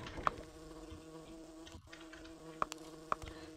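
Insect buzzing of a wasp in the Dungeon Keeper video game, a faint, steady drone with a few short clicks over quiet game ambience.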